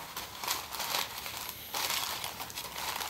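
A paper coffee filter is crumpled and pushed into the cut-off bottom of a container, giving a continuous close papery crinkling and rustling with no speech.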